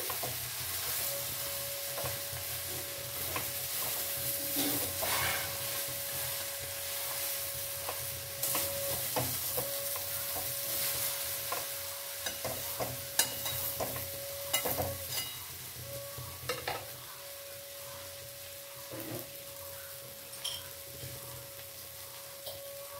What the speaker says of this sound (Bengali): খুলে নিয়ে ভালো করে আবার নাড়িয়ে নেব। আরো লো করে দিলাম।